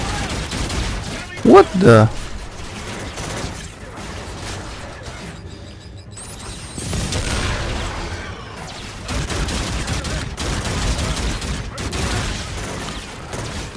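Gunfire in the video game Call of Duty Infinite Warfare, with a sharp loud burst near the start followed by dense ongoing battle noise and scattered shots, while someone speaks briefly over it.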